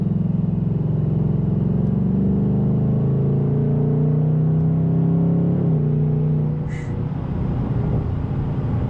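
A 2024 Mustang GT S650 V8 accelerates hard from inside the cabin, the engine note climbing steadily before a slightly harsh upshift drops the revs, then pulling again, loud and continuous.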